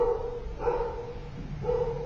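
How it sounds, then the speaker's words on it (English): A dog barks downstairs, muffled and distant, with a couple of faint barks under a steady room hum and no talking. "And there's a dog downstairs barking."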